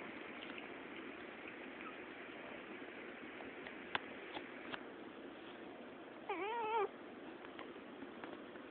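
A kitten meows once, briefly and with a rising wavering pitch, during a scuffle with a man, set against a steady low background hiss in an indoor room.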